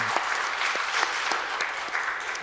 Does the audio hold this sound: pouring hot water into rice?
no